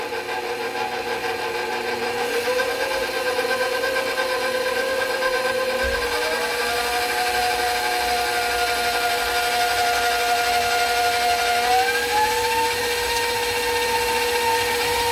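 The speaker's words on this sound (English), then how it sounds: "I've got my KitchenAid mixer dough hook on, and I'm going to start on low" A KitchenAid stand mixer fitted with a dough hook kneads bread dough on low speed, a continuous motor whine with wavering pitch that shifts a few times, loud and close, no talking.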